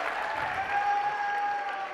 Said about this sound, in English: Some rowdy fans tonight here at Briggs Gymnasium cheering on St. Paul Academy.